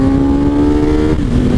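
Engine-swapped Suzuki GSX-R motorcycle revving hard while being ridden, a loud, close, sustained engine whine holding pitch before dipping briefly as the throttle shifts.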